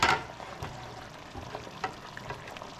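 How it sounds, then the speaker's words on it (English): Beef stroganoff sauce being stirred in a pan, a soft scraping and sizzling texture with irregular light clinks and swishes, close and moderately quiet, no voices. "I'm just stirring it in"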